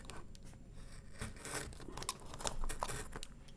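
A toilet paper roll craft box being cut open with scissors, giving close, quiet crinkling and tearing cardboard snips in irregular bursts.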